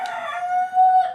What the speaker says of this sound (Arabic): الديك بيصبح عليكم.